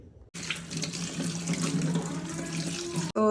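Tap water runs steadily into a sink as bel leaves are rinsed in a home prayer room, a continuous close splash lasting about three seconds before stopping abruptly.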